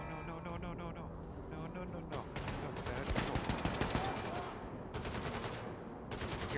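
Gunfire in the shooter Wolfenstein II: The New Colossus, with rapid automatic bursts and sharp shots rattling in repeated clusters at moderate loudness, mixed with other game sounds and no talking.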